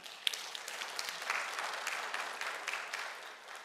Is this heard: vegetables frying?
no